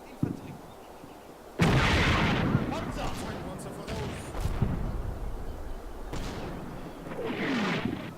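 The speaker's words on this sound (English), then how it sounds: "Get these mortars firing." Mortar and infantry gun fire in the Combat Mission WWII game, defending against an American armor column at Stavelot: a sudden loud blast followed by sustained rumbling booms and bursts of battle noise, with another swell near the end.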